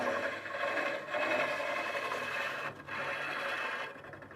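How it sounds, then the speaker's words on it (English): A hollowing tool scrapes and cuts steadily into spinning walnut on a lathe, a continuous rasping hiss with a few brief pauses, close and moderately loud. "this walnut is cutting really nicely with a nice sharp tool"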